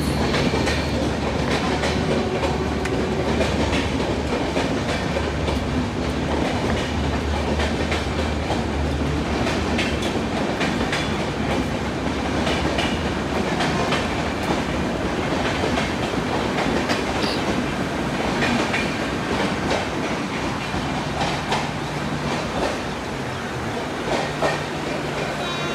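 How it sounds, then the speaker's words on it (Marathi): A fast local train running through a platform at a suburban station at dawn, a loud, continuous roar with rhythmic clickety-clack of wheels over rail joints throughout. "फास्ट ट्रेन असणार आहे ट्रेन."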